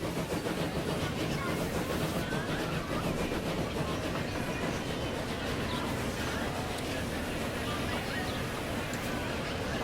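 A train rolls through a station in the Transport Fever video game, a continuous rail rumble with clattering wheel noise holding steady for about ten seconds while someone talks over it.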